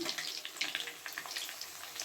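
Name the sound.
chicken cutlets frying in a pan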